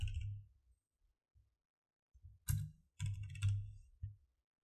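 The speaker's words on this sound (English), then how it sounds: "I'm going to start up Notepad. Allow me to just type." Keys tap on a computer keyboard while typing into Notepad, a few isolated presses followed by short quick bursts of close clicking.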